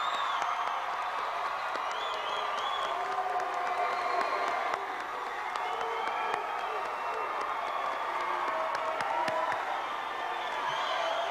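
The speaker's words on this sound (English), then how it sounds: "Let's have a round of applause for the seniors of 1996." A 1996 high school graduation audience applauds the seniors, a steady, distant wash of clapping and crowd noise with scattered cheers and whoops, continuing evenly throughout with faint voices mixed in.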